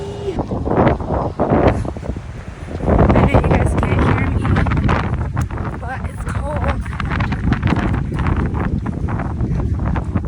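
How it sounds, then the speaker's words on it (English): Gusty wind buffets the microphone outdoors during a half-marathon run, a loud low rumble swelling after the first few seconds and lasting throughout, with a voice speaking over it. "the second I started talking, there's wind"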